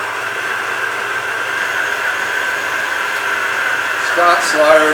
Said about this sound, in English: Now we just cream the butter and sugar.